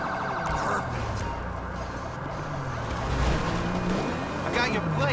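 Ambulance siren wailing in Grand Theft Auto V, a steady rising and falling tone running throughout over dense game noise and traffic, with speech-like chatter mixed in.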